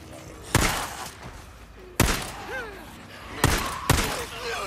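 Assault rifle gunfire in the video game Days Gone: four sharp, separate shots spaced about a second apart, each loud and close with a short ringing tail, over a low ambient background.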